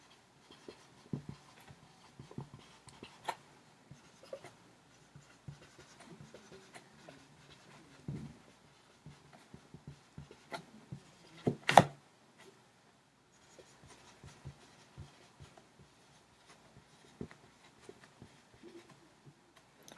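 Students write on paper in a classroom, a quiet scratching of pens and pencils with scattered light taps and shuffles throughout, one brief louder knock midway, and no talking.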